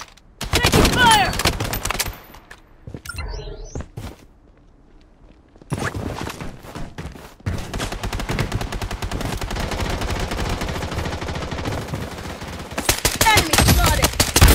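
Gunfire in the Blood Strike video game on the Shutter Island map: loud sustained bursts of automatic fire with a brief quieter lull, then continuous rapid shooting to the end.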